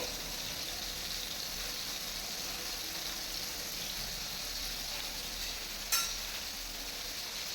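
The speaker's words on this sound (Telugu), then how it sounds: "నిదానంగా సిమ్లో పెట్టుకొని ఫ్రై చేసుకోవాలండి వీటిని" Fish frying slowly over a low flame in oil as a first step toward a fish dum biryani, a steady soft hiss close by, with one brief louder crackle near the end.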